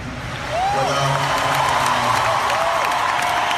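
An audience at a California Democratic convention breaks into applause and cheering after a short lead-in, a dense, loud wash of clapping with a few whoops rising above it that lasts to the end.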